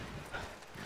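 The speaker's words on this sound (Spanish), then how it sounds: "Mira, se va a morir el caballo." Horse in a Western-themed video game clip-clopping along. Soft hoofbeats repeat in an uneven rhythm, faint and a little distant, with no talk over them.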